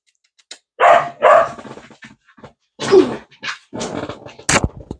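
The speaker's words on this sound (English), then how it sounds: "Hey, stop barking at him." A puppy barks in several sharp bursts, close and loud, with short pauses between them and a quick high yip near the end.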